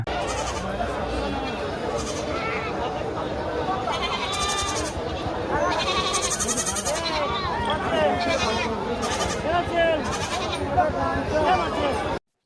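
Many goats bleating repeatedly amid a noisy crowd at a goat market in Pabna, with a steady babble of voices and market chatter throughout.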